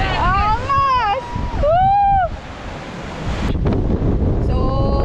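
Strong wind sweeps the coast at Butas na Bato in Dingalan, Aurora Province, roaring steadily with surf-like rushing, while people shout and whoop loudly over it, near the microphone.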